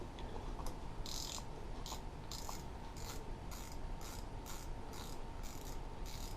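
Ratchet clicking from a fishing reel's tension knob being tightened, about a dozen crisp clicks in a fairly regular series over a low background hiss, close and moderately quiet.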